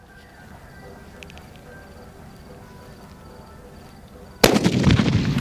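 A Diwali sutli firecracker bursts with one sudden loud bang near the end, following several seconds of quiet night ambience with faint distant pops.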